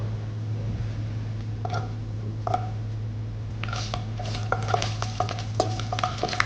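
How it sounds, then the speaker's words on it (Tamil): Whole peeled garlic fries in a pan over a low hum, with soft sizzling and a few scrapes early on, then a quicker run of clicking stirs and light clatter near the end. "இது வதங்கும் போதே நீங்கள் முழுசாக உரிச்சு வச்சுருக்கிற பூண்டை போடலாம்"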